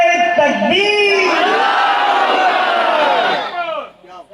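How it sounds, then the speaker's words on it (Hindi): A large crowd at an Urs religious gathering shouts the Takbir chant in unison, a loud, sustained roar of many voices that swells and then fades out. "जम करके बरेलवी नारा लगाइए कि इलाका गूंज जाए"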